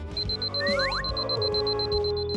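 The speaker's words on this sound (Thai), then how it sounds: "เธอเลยลุกขึ้นมาปิดนาฬิกาปลุกก่อนไง" A beeping alarm clock rings in a bedroom: a rapid, evenly spaced run of high electronic beeps repeats steadily throughout, fairly quiet, with a few soft rising whooshes and low thuds alongside and no speech.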